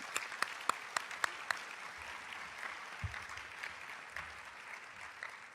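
Audience applause at a school summer program closing ceremony, a steady wash of many hands clapping with a few sharper claps early on, faint and somewhat distant throughout.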